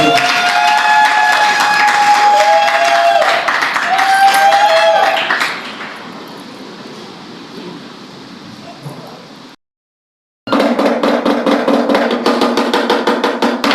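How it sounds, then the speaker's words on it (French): Dense applause and clapping from an audience at a staged performance, loud and sustained with a voice rising over it early, then thinning out, dropping to silence and returning as a strong burst of clapping. "Il aurait suffi pour l'applaudir une fois, venons l'applaudir 5 fois"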